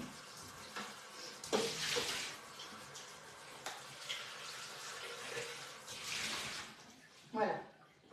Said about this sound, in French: Je rince mon bol.